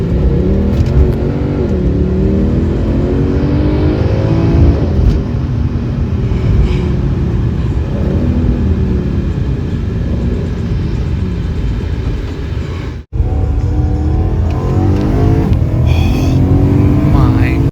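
A Mercedes C63 or BMW E90 M3 V8 engine pulling hard and upshifting quickly, loud and close from inside the car, with rising revs, a brief cut at each gear change and a narrator talking over the engine.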